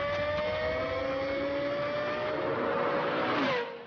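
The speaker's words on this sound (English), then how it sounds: "And the sound of this high-revving engine is unmistakable." The high-revving V10 of a Lexus LFA screams steadily at high pitch, a smooth sustained wail that climbs and then drops off sharply at the end, heard alone without any talk.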